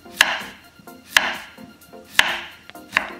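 Four crisp knife strokes cut through young pumpkin (zucchini) into 0.5 cm slices on a cutting board, spaced about a second apart, each a sharp chop with a brief scrape, close and clear with no talk.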